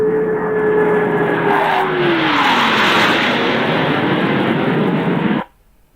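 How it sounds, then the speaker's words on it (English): The aircraft of two solo pilots making a loud, close pass at an air show, a roaring jet engine whose pitch drops as it sweeps by, cutting off abruptly near the end. "The two solo pilots are making their approach to the flight line."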